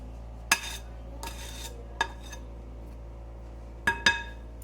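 Cookie dough being scraped down in a mixing bowl: a handful of sharp scrapes and knocks of a utensil against the bowl, separated by quiet pauses, close and clear with no talk.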